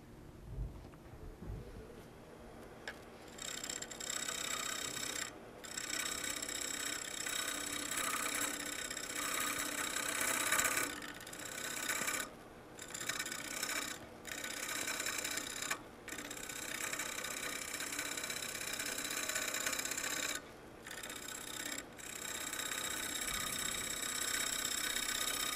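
Wood lathe turning a rough bowl blank, a steady broadband whir and scraping hiss of the cutting tool held close and loud, broken by several brief pauses as the tool lifts off the spinning wood.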